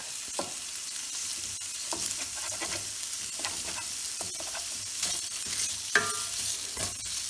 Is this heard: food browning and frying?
yes